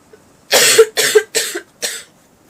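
Four harsh coughs in quick succession, close and loud, each a short rasping burst with brief pauses between them.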